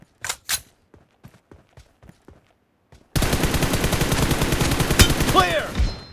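Sustained automatic gunfire from a mobile shooter game played on an iPhone 8 Plus roars loud and continuous for the second half, preceded by a few soft footstep-like taps and brief sharp effects.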